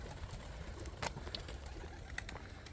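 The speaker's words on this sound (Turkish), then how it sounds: "Kuşlar yine ortalıkta." Soft cooing of pigeons in the distance over a steady background hum, with a few faint wing or chirp sounds scattered through, as the birds feed on scattered food.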